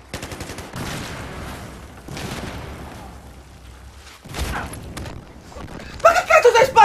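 Gunfire in Battlefield 4 on Xbox One comes in several separate bursts, then turns to rapid, loud shots at the end, with a voice talking between them.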